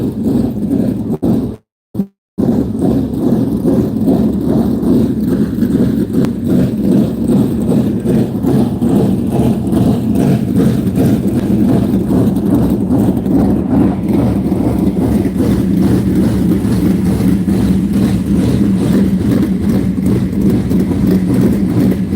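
Sprint car engines roar at an Elite Outlaw Sprint Car Series dirt track race at South Texas Race Ranch, a loud continuous droning rumble with no talk, cutting out for a brief moment near the start.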